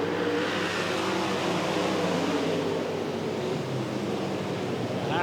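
Super sedan race cars pulling away at the start of an A-main on a raceway, a dense, continuous engine roar heard from a distance with no pauses.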